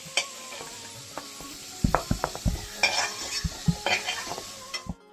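Cauliflower pieces being fried in oil in a pan, with a spoon scraping and clattering against the metal in irregular strokes over a soft sizzle, close by.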